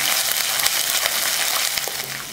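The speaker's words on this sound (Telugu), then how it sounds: "పచ్చివాసన పోయే వరకు ఈ అల్లం వెల్లుల్లి పేస్ట్ వేయించుకున్నాం" Ginger garlic paste frying in a hot pan for a pumpkin fry, a loud continuous close sizzle throughout.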